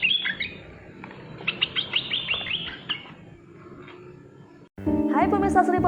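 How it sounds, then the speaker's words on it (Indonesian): Birds chirp and tweet in quick bright bursts over a low rumbling background during bird trapping with glue traps in Lahat, then a louder burst of mixed noise cuts in near the end. "suara burung sudah dipersiapkan"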